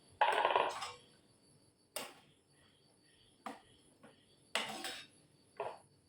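Long beans go into a pot of boiling sayur lodeh soup, heard as a handful of separate metallic clanks and clatters spread over several seconds with quiet gaps between them.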